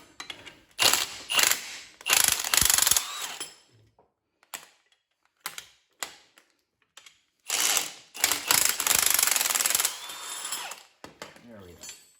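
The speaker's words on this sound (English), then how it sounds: "let's go ahead and take this spring compressor off." A hand ratchet clicks in bursts while a spring compressor is backed off a Ford Mustang coil spring, the rapid pawl clatter starting and stopping repeatedly, loud and close, with no talk.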